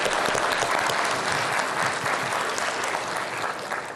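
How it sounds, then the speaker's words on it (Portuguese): An audience at a formal ceremonial session celebrating Administrator's Day breaks into enthusiastic applause, a dense, continuous roar of many hands clapping that fades slightly toward the end. "a gente vai dar um efusivo salva de palmas pelo Dia do Administrador agora"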